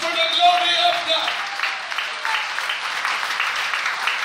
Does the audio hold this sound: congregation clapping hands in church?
yes